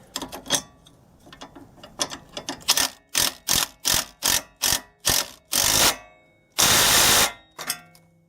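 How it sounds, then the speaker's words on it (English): A 17 mm wrench tightens the nut on a Koni Yellow shock absorber during installation on a 2013+ Ford Focus, a run of loud close ratcheting clicks in quick bursts, with one longer burst near the end. "grab your handy dandy wrenches, hook onto the back with a 17"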